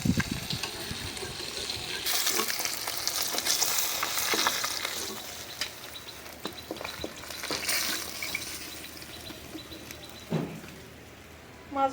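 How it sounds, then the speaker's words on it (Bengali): Fish sizzle and crackle in hot oil in a pan on an outdoor stove on a windy day, with bursts of spattering swelling and fading and occasional clinks of a utensil. "মাছ ভাজা হয়ে গেল, উঠাই নিলাম।"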